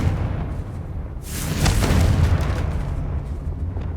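In Hogwarts Legacy, the Confringo fire spell bursts into a loud, close explosion. A sudden boom swells and then rumbles away into a sustained roar.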